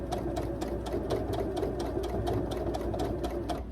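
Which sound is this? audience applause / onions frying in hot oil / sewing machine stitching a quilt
sewing machine stitching a quilt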